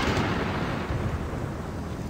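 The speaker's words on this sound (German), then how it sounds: "könnte das Gewitter vielleicht mal aufhören" Thunderstorm in the video game Gothic 2: a steady, loud low rumble of thunder and rain noise filling the whole stretch with no clear breaks.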